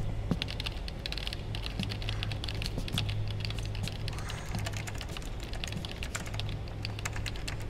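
Rapid computer keyboard typing from Metal Gear Solid 4: Guns of the Patriots, a dense, continuous patter of key clicks at close range with no pauses.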